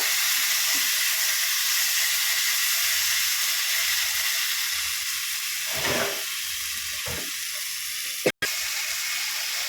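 Spice paste sizzling and being stirred in a pan for mocha chingri, a steady hissing fry with occasional scraping bursts and a short dropout near the end, no voices.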